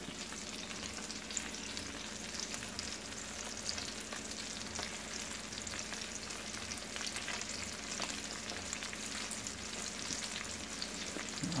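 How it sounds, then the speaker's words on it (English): Chicken breasts frying in a black pan, a steady close sizzle and crackle of hot oil with faint stirring, continuous and without talk. "I hope you get to hear all these delicious noises going on."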